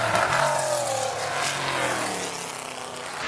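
At the Goodwood Revival RAC TT Celebration race, a Bizzarini and other classic racing cars roar past close by, engines loud and revving with a falling pitch as they pass, no talk.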